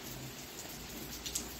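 Heavy rain pours down in Nagpur, a dense, continuous hiss of downpour striking surfaces close by, loud and steady throughout.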